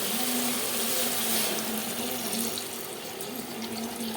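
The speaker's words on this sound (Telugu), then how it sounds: "ఇప్పుడు వాటర్ వేసేసుకుందాం." Water pours steadily into a pot of goat head curry, a continuous close splashing stream that runs the whole time without pause.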